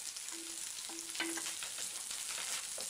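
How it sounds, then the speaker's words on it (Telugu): Onions, green chillies and curry leaves fry in a pan with a soft, continuous sizzle and a few faint clinks of a utensil. The sound is quiet and even throughout, with no voices. "ఉల్లిపాయలు ఇలా బ్రౌన్ కలర్‌లోకి వచ్చిన తర్వాత పచ్చిమిరపకాయలు, కరివేపాకును కూడా వేసుకొని వేయించుకోవాలి."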